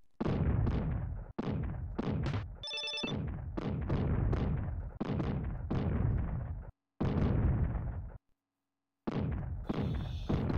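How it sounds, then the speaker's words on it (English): Hamburger fireworks burst in the video game Zombies Ate My Neighbors, a rapid run of loud explosive pops in uneven rhythm with a brief chiming jingle, a short pause, then more blasts. "And now we get to see a bunch of hamburger fireworks."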